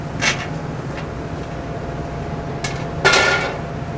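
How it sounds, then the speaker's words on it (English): A paella pan of cooked seafood coming out of a 500-degree oven, with a few sharp metallic clanks and scrapes of pan against oven rack, one louder knock near the end. "we're ready to take the paella out of the oven."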